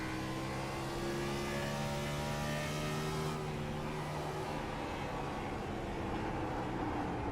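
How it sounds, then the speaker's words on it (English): Race car engine in a sim racing game at the Sonoma circuit, a steady sustained drone with shifting pitch through corners as the car fights for front grip, continuous and fairly loud with no talk. "you can hear that car just fighting"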